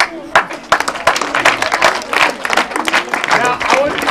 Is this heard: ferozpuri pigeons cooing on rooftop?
no